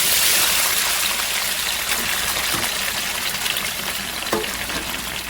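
Tomatoes hitting a hot pan for summer tomato spaghetti alla chitarra give a steady, loud hiss and crackle of frying, like running water, with a few sharper pops near the end.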